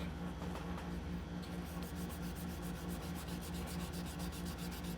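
A chef's knife blade is hand sanded on 800-grit paper: steady, rapid back-and-forth scratching strokes in an even rhythm, close and moderately quiet, with no voices.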